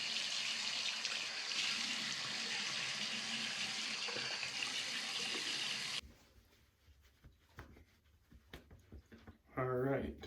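A bathroom tap runs in a steady loud gush for about six seconds while shaving lather is rinsed off. Then the water cuts off, leaving soft splashes and handling noises.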